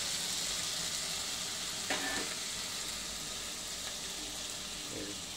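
Chicken tikka fries in spattering oil in a pan, a loud close sizzle with a couple of brief clinks from turning the pieces and no talk.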